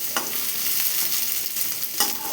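Tomato sizzling in hot oil while being stirred, with a few louder scrapes of the spoon against the pan, close and continuous.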